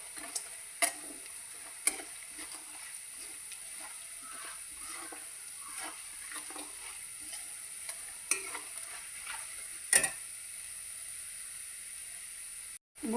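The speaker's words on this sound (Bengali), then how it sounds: "বড়িটা হালকা ভেজে ভেজে নেব।" Bori lentil dumplings fry gently with garlic in a pan: a soft, steady sizzle runs under a few light clicks and stirring taps, quiet and close throughout.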